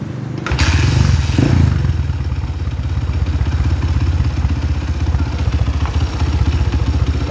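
Motorcycle engine idling after a valve clearance adjustment, carburettor untouched: a loud, close, steady mid-pitched chug with a faint mechanical clatter, following a sharp clunk at the start, and no voices.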